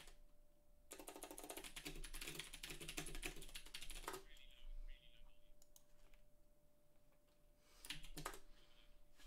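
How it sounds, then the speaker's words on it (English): Typing on a new computer keyboard comes as dense bursts of quick clicky keystrokes, close and fairly crisp, with pauses between runs and some quiet talking in the background. "that's my new keyboard"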